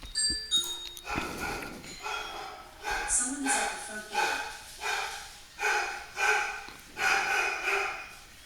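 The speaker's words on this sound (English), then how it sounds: "Sorry for the dogs barking in the back." Dogs bark repeatedly in a steady rhythm, moderately close, after some brief clatter at the start.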